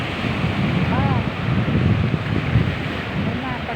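Strong sea waves roar steadily along the Thai coast, with wind buffeting the microphone throughout in a dense, continuous wash of surf noise; no one speaks.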